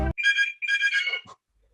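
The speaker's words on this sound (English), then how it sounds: "That's my phone ringing, sorry." Mobile phone ringtone plays as a bright, looping melodic phrase in two bursts, loud and close, ending abruptly with a short electronic blip before silence.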